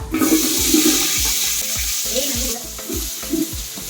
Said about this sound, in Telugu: ఇప్పుడు ఆనియన్స్ వేసుకుందాము